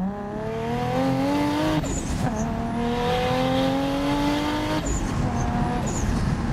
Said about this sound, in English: can you hook up a Supra from a dig? So let's find out.